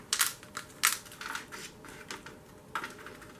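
A small soft plastic cup holding a violet plant is squeezed by hand, giving a series of close, crinkly crackling bursts.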